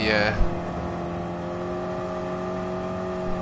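A car engine in Gran Turismo 7 hums at a steady pitch after a brief thump at the start, a sustained, moderately loud tonal drone with no break.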